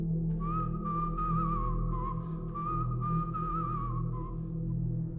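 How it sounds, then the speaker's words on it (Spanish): A soft, sustained whistled melody with gentle wavering pitch, carried over a steady low hum, moderately quiet and continuous for several seconds. "Un silbido suave y prolongado que parecía venir desde afuera."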